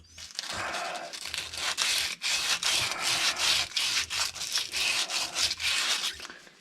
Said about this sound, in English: Give this a bit of a clean with some emery cloth.